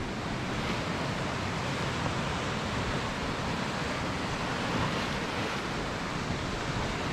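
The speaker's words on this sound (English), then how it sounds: "It is quite scary being beside the sea when some of the bigger waves is rolling in like that." Big sea waves roll in along the Angus coast in Scotland, a loud, continuous roar of surf mixed with wind buffeting the microphone, steady throughout with no voices.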